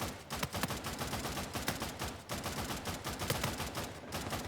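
Rapid, dense gunfire from an Uncharted 4 multiplayer match, with bursts of automatic shots layered into a continuous loud fusillade that runs the whole stretch without letup.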